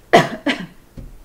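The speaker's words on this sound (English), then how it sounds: "can you just give me a strong cough?" Two strong, close coughs from a patient during a bedside swallow evaluation, each a sharp burst in quick succession, followed by a softer short throat sound.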